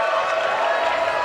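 Crowd of about a thousand cheering, shouting and applauding a climber at the IFSC World Cup bouldering finals in Salt Lake City, a steady dense wash of noise with no breaks.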